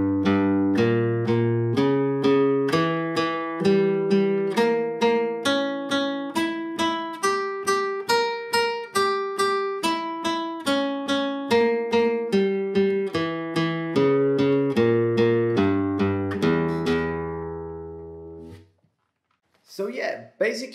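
Flamenco guitar playing a pulgar thumb exercise on a diminished pattern, each note plucked twice in a steady even pulse, clear and close, ending with a sustained chord that rings out before a brief pause and faint sound.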